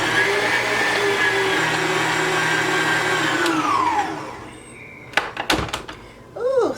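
A kitchen blender whirs loudly while mixing milk, its motor pitch steady and then sliding down as it spins to a stop, followed by several clunks and knocks as the container is handled.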